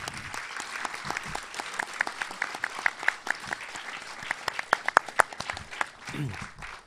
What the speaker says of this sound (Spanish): un aplauso pues para nuestros invitados